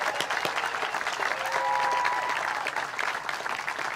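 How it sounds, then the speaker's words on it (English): A crowd applauds the All Ohio State Fair Band and Choir at the fair's outdoor ribbon-cutting celebration, with a steady wash of clapping at moderate distance and a faint tonal note briefly rising through it. "Let's give them a big round of applause."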